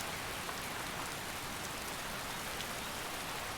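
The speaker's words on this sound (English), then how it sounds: "let's just take in the ambiance of our rainy forest for a moment" Steady rain falling through a forest in the game Skyrim Wildlander, an even soft hiss of drops on foliage, quiet and continuous with no voices.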